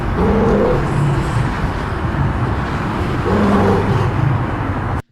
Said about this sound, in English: those traffic noises were a little bit loud